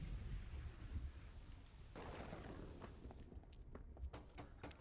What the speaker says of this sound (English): God, the thunder's kind of annoying me.